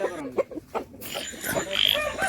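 A rooster sounds off on a farm, its call brief and moderately close, mixed with other poultry and animal noises while someone talks over it.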